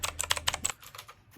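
Quick keystrokes on a full-RGB gaming keyboard, about six crisp clicks in a rapid burst, then fainter scattered taps trailing off, close up and with no talking.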